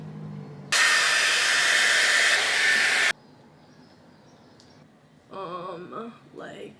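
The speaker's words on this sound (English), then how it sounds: "I just quickly blew my hair out." A Dyson hair dryer roars loudly and steadily at close range for a few seconds, then cuts off abruptly, leaving a quiet room where a voice briefly speaks afterward.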